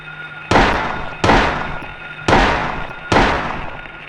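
Four loud, close gunshots in the Silent Hill video game, each a sharp crack with a long decaying echo, spaced unevenly about a second apart, with no voices.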